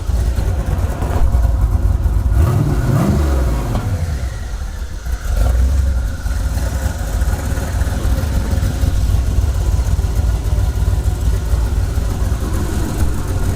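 A quad-turbo LS engine runs loud and steady with its electric exhaust cutout open and no muffler, with a brief rev swell early on, then a sustained rumbling drone throughout.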